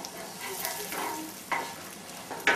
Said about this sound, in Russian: Сейчас нужно быстро-быстро варить лук.